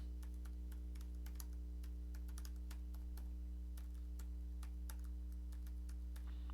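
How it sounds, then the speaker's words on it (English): Keystrokes on a computer keyboard while entering text in a word processor, a scattered run of quiet clicks over a steady low mains hum, with no voices. "I could type in a little bit of text"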